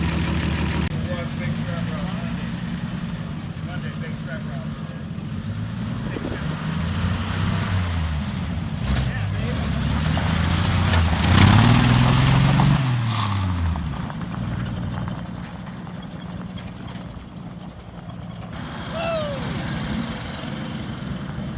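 A rat rod car's engine runs and drives off on a rough outdoor track, rumbling loud and close with revs swelling and falling, while people talk and shout over it.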